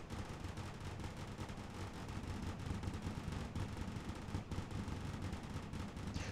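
Gatling guns firing in the Fortification tower defense video game: a faint, continuous rattle of rapid rounds like distant massed gunfire, steady throughout with no talking.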